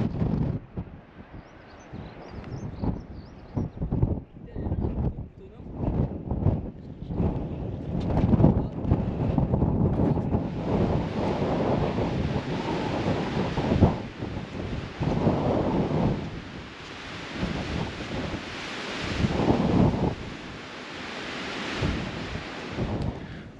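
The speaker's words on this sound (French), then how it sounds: "on a quitté les plateaux où il y avait beaucoup de vent" Strong wind gusts across an open mountain plateau in the Monts d'Ardèche, roaring and buffeting the microphone in loud, uneven bursts that swell and fade throughout.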